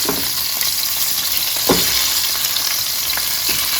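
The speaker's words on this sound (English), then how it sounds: "So because my oil is hot now, I need to move faster so that I don't end up burning my meat." Oxtail pieces browning in hot oil in a pot, a loud, dense sizzle running throughout with occasional stirring clatters and one sharper scrape midway, with no talking.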